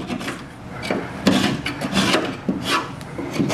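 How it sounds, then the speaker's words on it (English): A keyhole knife trimming a hole cut in drywall gives repeated rough rasping, sawing strokes at close range in an uneven rhythm, no voices. "We can always use our keyhole knife to trim out the hole a little bit."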